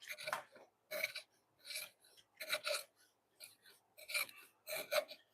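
A mortise chisel cuts into wood with a series of sharp, close, rasping scrapes and chops, about seven strokes in an uneven rhythm, fairly quiet overall.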